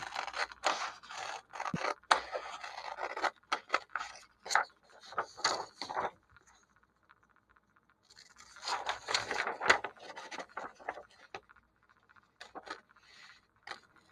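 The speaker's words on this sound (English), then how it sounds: "Once you completed coloring, of course, we're gonna cut it out." Scissors snip through paper while a paper craft is cut out, close and crisp, in two bursts of rapid cuts separated by a quiet pause, with scattered single snips near the end.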